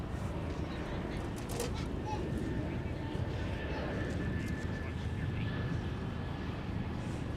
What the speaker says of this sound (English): The runway 22 departure for Delta 1055 to Fairbanks.